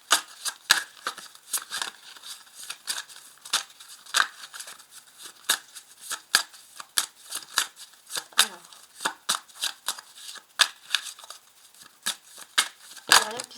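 A deck of 32 playing cards is shuffled close up in a series of crisp, rapid riffles and snaps, repeated in irregular bursts.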